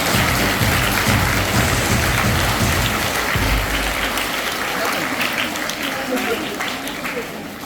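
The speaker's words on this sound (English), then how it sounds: "Please give them a big round of applause." An audience at a school English literary club celebration gives a loud, sustained round of applause, a dense rain-like wash of clapping that carries on evenly from start to finish.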